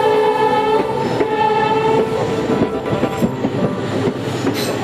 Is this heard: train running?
yes